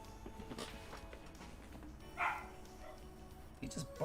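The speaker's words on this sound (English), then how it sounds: "He's just barking non-stop." Dog barking in the video game Trails of Cold Steel IV: a few sharp, separate barks heard fairly faintly over quiet game background sound.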